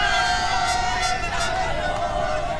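Large Napoli football crowd roaring in celebration of the Scudetto championship, a dense continuous wash of cheering, chanting and whistling.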